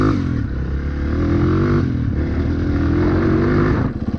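A Honda CRF230 dirt bike engine warms up at steady idle, running rich, with a loud, close, continuous thrumming burble that stays even throughout and stutters slightly near the end.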